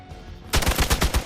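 Gunfire in Marvel's Midnight Suns breaks in abruptly as a rapid, loud burst of repeated shots with a steady rhythm, close and continuous to the end.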